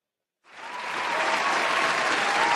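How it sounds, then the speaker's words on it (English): Applause sound effect played during a Mother's Day livestream DJ hour, starting abruptly after brief silence and swelling into a dense, steady crowd clapping that holds to the end. "Let me find the applause."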